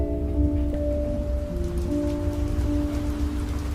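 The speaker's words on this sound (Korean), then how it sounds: "빗소리를 들으며" Rain patters steadily outside a moving train, a soft, even wash over a low rumble of wheels on track, with faint sustained tonal hums running through it and no voices.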